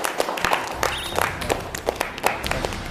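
A small studio group claps for the winning team's captain at an anniversary party game show, with scattered, uneven clapping throughout and faint voices mixed in.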